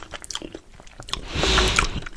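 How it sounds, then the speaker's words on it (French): Crisp crunch of biting through the shell of a trompe-l'oeil dessert, a few sharp cracks followed by a louder burst of crunching and chewing close to the mouth, with no talking. "c'est bien craquant déjà. J'ai croqué que la coquille, ça a l'air très bon"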